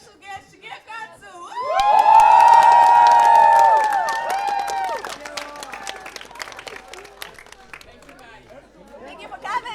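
A live event audience bursts into loud applause and whooping cheers for a special guest, swelling quickly, holding for a few seconds, then thinning into scattered claps and chatter.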